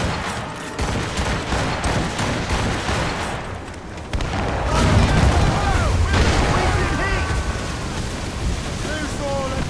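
Naval cannon broadside fire from a sailing warship in Assassin's Creed Rogue, a dense barrage of booming shots and crackling impacts rolling over steady wind, waves and creaking ship noise, loud and sustained throughout.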